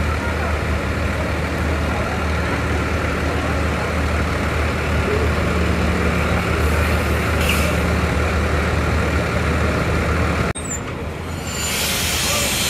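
A PO Raya intercity bus idles at the depot before departure, a steady, loud diesel rumble that fills the scene with a short hiss and shift in tone near the end.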